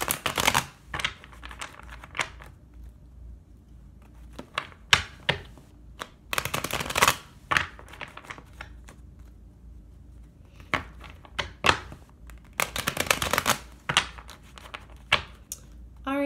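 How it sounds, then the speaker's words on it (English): Tarot cards are shuffled by hand in short bursts of crisp riffling and tapping, separated by quiet pauses, close by and fairly loud. A voice is briefly heard near the end. "All right, Saggy, two more shuffles,"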